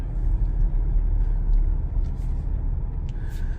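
A car rolling into a compound, a loud steady low engine and road rumble heard from inside or close by, with a few faint brief higher noises near the end.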